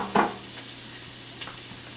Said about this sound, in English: We're going to add that, I love that sound, into our butter mixture here.